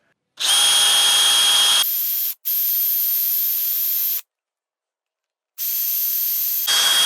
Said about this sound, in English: I'm just going to freehand this with the DeWalt.